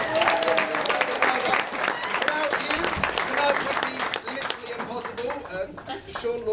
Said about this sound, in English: Let's give a big round of applause here for fathers